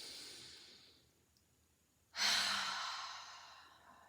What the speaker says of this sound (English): So that's a nice singer's breath, or yoga breath